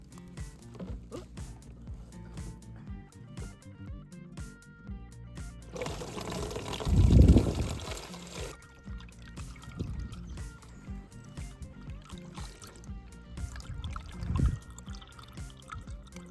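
Collected birch sap pours from a container in a gushing, splashing stream for a couple of seconds, close and loud, surrounded by quieter outdoor handling sounds and trickles.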